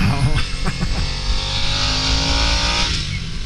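A 2022 Harley-Davidson Nightster motorcycle engine revs hard to about 9,300 RPM, a loud, close, rising roar that holds high through the clip with a voice briefly over it.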